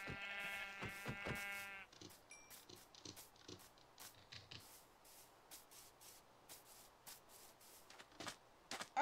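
Sheep in the Minecraft video game bleat in a clear, harmonic call near the start, followed by scattered clicks and game sounds over a quiet background.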